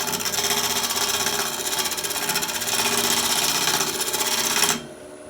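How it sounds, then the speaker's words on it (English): A wooden glue block being scraped on a wood lathe, a continuous dense rasping whir of the tool against spinning wood, loud and close, stopping abruptly near the end and leaving a low hum. "I'm just going to smooth it off, scrape it until it goes round"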